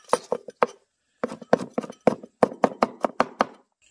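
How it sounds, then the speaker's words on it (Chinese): Garlic cloves are smashed with a knife on a cutting board for minced garlic, giving close, sharp knocks in quick uneven bursts separated by short pauses. "首先，先拍点大蒜，一会儿剁个蒜蓉"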